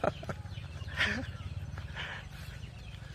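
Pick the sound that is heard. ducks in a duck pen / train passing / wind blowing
ducks in a duck pen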